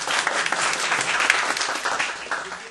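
Audience applause for the teachers at a seminar, a dense steady roll of many people clapping together at moderate loudness, continuing evenly with no talk over it.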